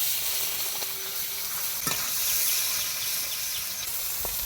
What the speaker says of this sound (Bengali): মাগুর মাছের ঝোলের জন্য মাগুর মাছটা এবার ভেজে নিব।